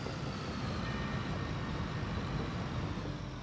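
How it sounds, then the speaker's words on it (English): Steady, dense low rumble of an excavator's tracks rolling along in Construction Simulator, continuous and fairly close, with a faint engine drone and no distinct clanks or voices. "Those tracks really sound like the actual tracks."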